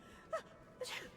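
Two quick sneezes from a character in the video game Dishonored, close and soft, with a short gap between them and no speech.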